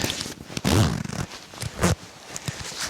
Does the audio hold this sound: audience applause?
no